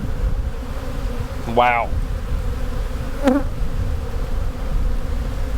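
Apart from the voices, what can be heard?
honeybees buzzing in an open hive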